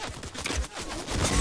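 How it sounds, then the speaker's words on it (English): Rapid bursts of Fortnite gunfire crackle through a short stretch of duos match action, dense and close, with overlapping shots and low thumps filling the moment without any talk. "Getting shot in the ground."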